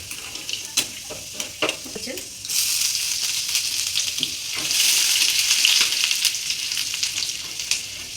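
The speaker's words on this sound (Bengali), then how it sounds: "রসুনটা একটু লাল করে ভেজে নেবো" Chopped garlic frying in oil in a home kitchen pan, a steady close sizzle that swells loudly midway, with a few sharp scraping stirs and clinks early on and no talking.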